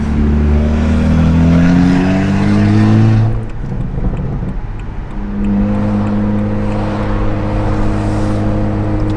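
A straight-piped BMW 135i coupe exhaust roars loudly as the car accelerates through the gears, rising engine tones broken by a brief shift dip midway, then climbing again close by.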